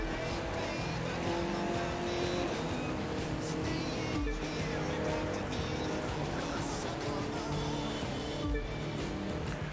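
Racing cars in The Crew 2 video game, including a Mustang, an M5, a Focus RS, a Challenger and a Viper, with dense continuous engine roar and road noise mixed with a few bumps and crashes.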